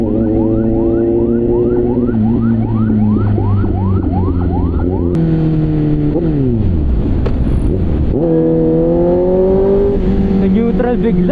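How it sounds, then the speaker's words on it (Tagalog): An ambulance siren wails close by, its rising and falling tones sweeping repeatedly over steady traffic and engine noise before it passes and fades. "Ambulansya, kilid tayo niyan"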